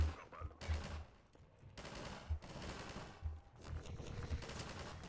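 Rapid bursts of gunfire in the video game Half-Life 2 come as sharp, punchy shots in uneven clusters, some quick automatic strings and some single cracks, loud and close.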